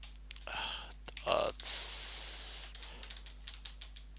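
Typing a command on a computer keyboard: a few scattered close key clicks and short tapping bursts, with a brief hissing noise in the middle, fairly faint over a low steady background hum.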